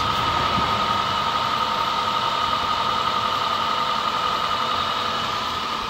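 A 2000 Acura 3.2TL with a 3.2-liter V6 idles after a cold start, giving a steady, even drone with a constant hum that holds unchanged throughout, with no talking.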